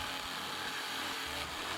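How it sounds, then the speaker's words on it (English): A jigsaw cuts steadily through a walnut board, its buzzing, rasping blade running loud and continuous throughout the short span with no talk. "This jigsaw was having no problem whatsoever getting through this walnut."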